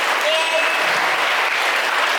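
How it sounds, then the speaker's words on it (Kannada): Dense, steady applause from a school program audience, including schoolchildren, filling the whole stretch with continuous close clapping and no break. "ಇನ್ನು ಜೋರಾಗಿ ಚಪ್ಪಾಳೆ ಹೊಡಿತಾರೆ ಅವರು"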